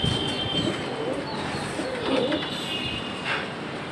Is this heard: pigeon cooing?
yes